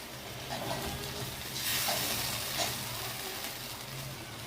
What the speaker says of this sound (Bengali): আমরা মশলাটাকে ভালো করে কষিয়ে নেব।